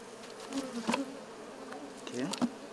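Honey bees buzz steadily and close around a hive comb during beekeeping work in Uganda, a continuous insect drone with a few louder passes of single bees flying near.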